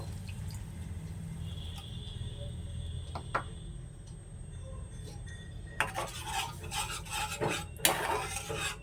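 Liquid milk being stirred into cooked, reddened mango in a pot while making a chhana sweet, with soft scraping and scattered metallic clinks of a spoon against the pot, growing busier toward the end over a low steady hum.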